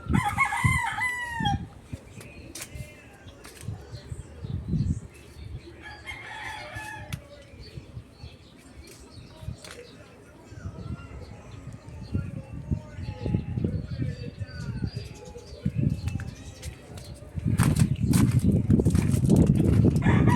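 Chickens cluck and a rooster crows amid farmyard chatter, with wings flapping and a person talking nearby at feeding time.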